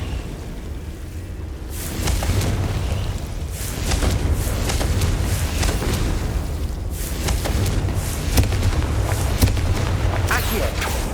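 Blasting spell detonations in a fantasy wizarding action game, repeated booming bursts over a constant low rumble, dense and loud throughout with sharp pops near 2, 4, 7 and 9.5 seconds.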